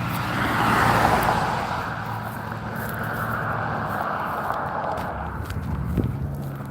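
Steady road traffic from cars passing beside a sidewalk, a continuous moderately loud whoosh of tires and engines with a louder swell near the start and light thumps toward the end, no talking.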